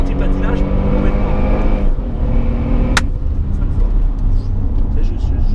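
Mercedes SL 63 AMG on the La Ferté-Gaucher race circuit, its engine droning loudly and continuously with shifting pitch as the car is braked and then accelerated, with people talking over it.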